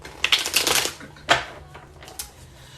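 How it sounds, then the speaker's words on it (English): Tarot cards being shuffled, a burst of papery riffling and rustling bursts close up, then a sharp flick and a few softer shuffles trailing off. "It does not want to be shuffled."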